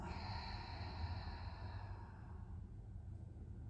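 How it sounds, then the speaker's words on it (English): One slow, deep breath, drawn in and released during a relaxing Pilates session, is close and soft. A long airy exhale fades gradually toward quiet. "we're gonna take a big breath in and out"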